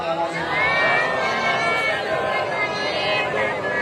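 A mosque congregation in a Muharram majlis reciting salawat together, a dense massed chorus of many voices rising and swelling at a steady level, filling the hall.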